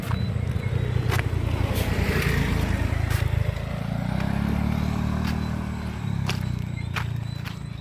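A motorcycle rumbles past on a road, its engine droning low and steady as it draws near and fades, with sharp clicks and taps scattered over it.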